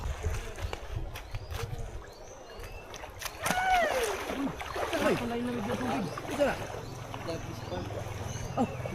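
Water splashes and sloshes as people bathe in a river in summer, intermittent and close, with voices talking and calling out over the splashing.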